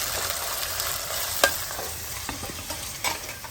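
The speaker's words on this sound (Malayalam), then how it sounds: "സവാളയും ചെറിയുള്ളി ഉണ്ട് അല്ലേ, പച്ചമുളക് നന്നായി വഴറ്റുക." Onions, shallots and green chillies sautéing in a pan with ginger, a steady soft sizzle of frying broken by a few sharp clicks and scrapes of stirring.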